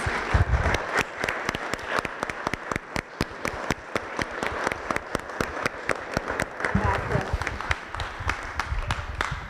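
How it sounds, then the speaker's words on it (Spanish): An audience at an academic lecture series gives a strong, sustained round of applause for a doctor marking ten years, with sharp individual claps standing out over a dense, even wash of clapping. "Yo quisiera pedirles que le brindáramos un fuerte aplauso a la doctora Mariana por estos 10 años."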